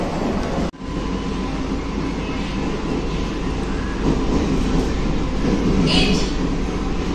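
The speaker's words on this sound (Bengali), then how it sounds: "আর বন্ধুরা খড়দা আর সোদপুরের মধ্যে আমাদের ট্রেন চলবে" An EMU fast AC local train runs non-stop between Khardaha and Sodepur, giving a steady, close rumble and rattle of the carriage from start to finish, with a brief dip near the beginning and no talk.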